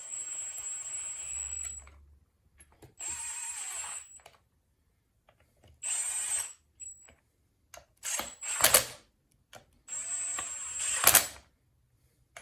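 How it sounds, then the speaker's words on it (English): A hand tool runs down bolts on a 1991 Polaris Indy 500 snowmobile engine during a rebuild, in several separate bursts of whirring, clicking ratchet-like sound, each a second or so long, with silent gaps between. "we're just gonna run down the bolts"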